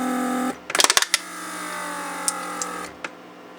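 A repaired Mercedes door lock vacuum pump hums steadily, shuts down with a brief burst of clicks, and leaves a quiet run with a few faint ticks after it.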